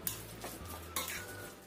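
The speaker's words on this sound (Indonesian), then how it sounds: "Kita aduk lagi sampai tercampur rata." A spoon stirs dumpling filling mixed with sugar in a bowl, giving a few soft scraping strokes and light clinks, quiet and close, with no talk.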